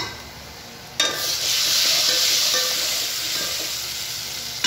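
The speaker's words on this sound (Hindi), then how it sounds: "सिंपल तड़का लगता है ये दाल का ना, मैं तो बिल्कुल ही सिंपल तड़का लगाती हूँ" A sudden loud sizzle as spices hit hot oil for a simple dal tadka, hissing strongly then settling into a steady crackling fry.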